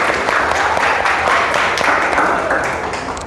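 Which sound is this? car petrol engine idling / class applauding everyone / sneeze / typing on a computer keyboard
class applauding everyone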